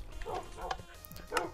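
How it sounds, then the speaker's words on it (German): A dog in the video game Minecraft barks in three short, separated yaps, fairly close and clear, with a faint background hum between them. "Ich hole mir jetzt einfach den nächsten Hund."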